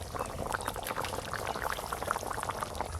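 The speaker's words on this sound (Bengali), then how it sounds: "ওপর দিয়ে কাঁচা সর্ষের তেল একটু দিয়ে দেবো" Raw mustard oil is poured over a bubbling hilsa curry cooked on a village clay stove, a brief close, liquid trickle mingled with soft simmering bubbles.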